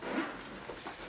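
Zipper on a gym bag pulled open in one brief, faint rasping stroke, close by, with no talking.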